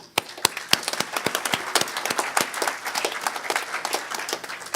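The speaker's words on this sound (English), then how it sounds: "So a round of applause for them" Audience applause for helpers at the closing of a hacker conference, a lively crackle of individual claps from a modest crowd, close and uneven, tapering off slightly toward the end.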